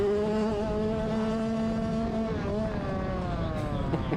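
Race motorcycle engine held wide open down a straightaway at a dirt race: a steady, high-pitched buzzing wail that holds pitch, then shifts slightly and fades, heard fairly close with no talk.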